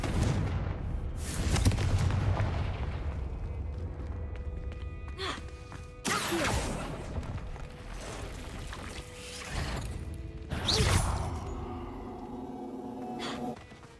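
The Confringo spell cast in the Hogwarts Legacy video game, sounding as several booming explosive blasts with sharp onsets and rumbling tails spread across the scene amid game effects.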